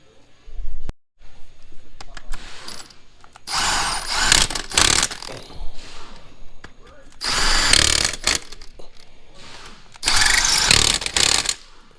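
Power tool tightening bolts during a Toyota water pump bearing replacement, several loud close bursts of whirring and ratcheting separated by pauses, with a voice speaking between them.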